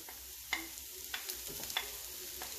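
Potatoes and onion stirred in a hot frying pan, a steady soft sizzle with a few sharp scraping stirs spaced through the short stretch, close and without any voices.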